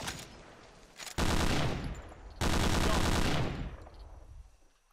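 A Bren light machine gun fires in Hidden & Dangerous 2 as two loud, sustained bursts of rapid automatic fire, each about a second long. A brief shorter burst comes before them, and a fading tail follows.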